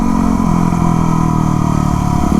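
A Yamaha WR250R supermoto motorcycle ridden on twisty Calaveras Road, its engine holding a steady, loud, close drone with constant rumble and no breaks throughout.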